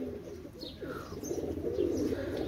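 High-standing fancy pigeons with aluminium leg rings cooing softly in a loft, low throaty coos mixed with faint chirps and a little wing movement, moderately close and quiet.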